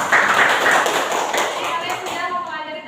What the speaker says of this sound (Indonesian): berikan tepuk tangan untuk Pak Guru